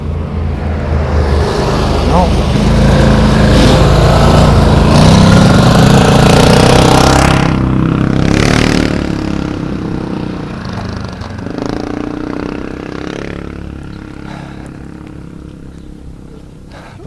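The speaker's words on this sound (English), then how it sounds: "Well, no, this is a lorry or something." Lorries pass along a road, a loud, heavy engine rumble that builds, holds and fades away, with someone speaking nearby over the traffic noise.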